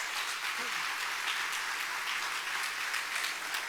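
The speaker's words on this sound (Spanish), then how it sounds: "Dale fuerte el aplauso a Jesús." Church congregation applauding together, a steady broadband wash of many hands clapping that holds evenly throughout without pauses.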